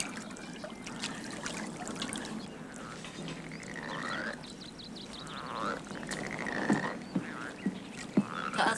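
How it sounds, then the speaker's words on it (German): A chorus of frogs croaking steadily near water, many overlapping rasping calls with a trickling stream beneath, dense and continuous, growing a little louder toward the end with no voices. "Ist das nicht scheußlich, das Gequarre von den Fröschen?"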